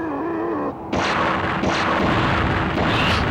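Cannon attack in Yu-Gi-Oh! The Duelists of the Roses: a short tonal cue gives way to loud, close blasts, with several booming hits landing in quick succession.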